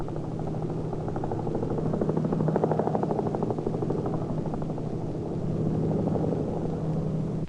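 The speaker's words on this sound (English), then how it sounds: "Sometimes a police helicopter will be sent out to try and locate the criminals from the air." A police helicopter passes overhead, its steady low rotor drone holding at a constant loud level throughout, with a faint rhythmic blade chop and no voices.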